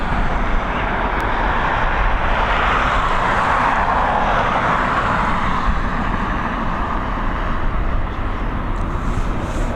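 A Ryanair Boeing 737 arriving from Stansted on approach to land on runway 28L at Dublin Airport in the evening, a steady, loud broadband jet roar that holds constant throughout with no talk.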